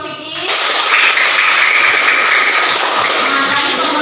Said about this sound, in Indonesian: Tepuk tangan untuk Vicky.